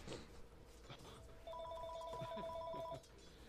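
Phone ringing during a Dota 2 esports match broadcast: a steady two-tone electronic ring trills for about a second and a half over casters' commentary and crowd noise.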